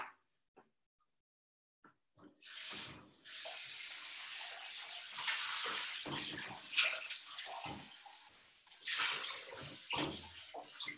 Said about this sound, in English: I'm just going to give this a quick wash.